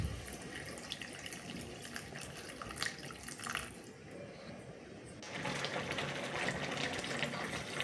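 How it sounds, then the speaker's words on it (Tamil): Tamarind water pours steadily into a pan, a broad watery rush that grows fuller and louder partway through, with faint clatter beneath. "பின்னர் புளிக்கரைசல் சேர்க்கவும்."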